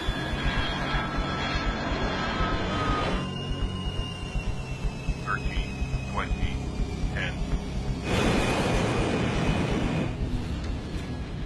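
A fixed-wing airplane lands with flaps deployed, its engine roar and rushing air loud and continuous, with tones sweeping and a surge of broadband noise near the end.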